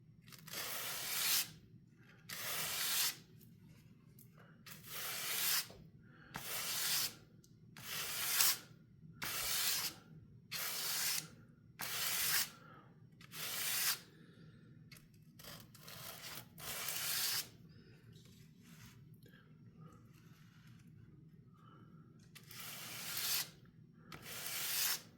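Hand sanding of titanium knife scales toward a satin finish: rhythmic rasping strokes, about a dozen in steady sequence with short pauses, then a longer gap before a few final strokes, close and fairly quiet.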